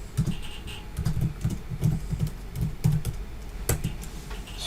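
Steady bursts of computer keyboard typing while C++ string insert code is entered, close and fairly quiet, with brief pauses between runs of keystrokes and no voice over it.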